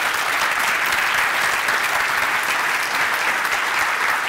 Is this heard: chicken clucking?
no